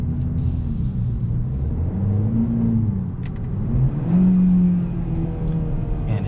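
A 2022 Hyundai Elantra N Line with a dual-clutch transmission downshifts while driving. A low engine rumble rises and falls with rev blips in a steady cabin drone, with faint crackles and no talk.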